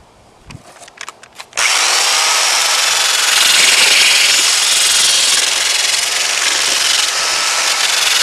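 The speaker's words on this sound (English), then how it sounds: "put a number 50 on your drill, number 50 grit sandpaper" A power drill with a 50-grit sandpaper attachment starts after a few faint knocks, then grinds steadily and loudly against surfboard foam with a harsh, abrasive whir.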